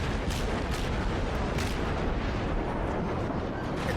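German cruiser guns boom in World of Warships, a continuous heavy roar of naval gunfire and blasts filling the whole stretch, loud and dense with a few sharper bursts rising out of it.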